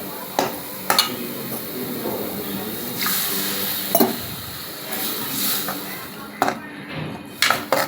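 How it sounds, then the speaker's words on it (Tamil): Masala for a goat head curry is sautéed in oil with a little water while being stirred, a steady low sizzle broken by several sharp spatula scrapes and clanks against the pan. "நல்லா மசாலா வேகிற அளவுக்கு நல்லா வதக்கிக்கலாம்."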